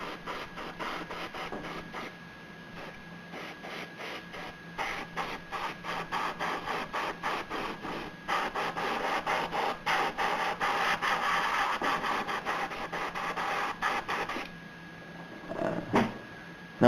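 An airbrush sprays paint onto a diorama base in quick, repeated hissing bursts, close up and fairly quiet, with a brief louder burst near the end and no talking.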